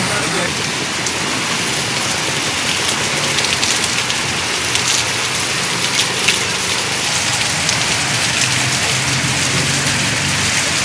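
Heavy rain pouring in Anekal and Nelamangala, Karnataka, a dense, steady hiss of downpour on surfaces that holds at a loud level throughout, with no voices over it.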